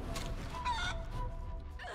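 A chicken clucking in the video game Divinity: Original Sin 2, a few quiet close clucks over a faint background murmur, no voices.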